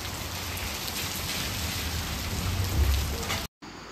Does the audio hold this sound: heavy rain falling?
yes